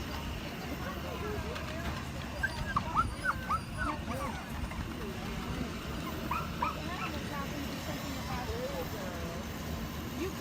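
A dog whimpers and yips in short high bursts over noisy outdoor background, with a person talking nearby.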